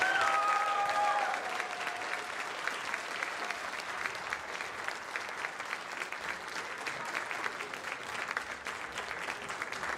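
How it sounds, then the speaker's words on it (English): An audience applauds a fifth grade band at a school spring band concert, steady dense clapping filling the room for the full stretch after a short trailing tone at the start. "About another round of applause for our fifth grade band"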